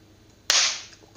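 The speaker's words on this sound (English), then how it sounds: "So you can tell a chocolate is parching because you can hear it popping." A single sharp, loud pop from cocoa beans parching for homemade Jamaican chocolate, a crisp crack with a short fading hiss over quiet background.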